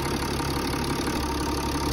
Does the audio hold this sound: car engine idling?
yes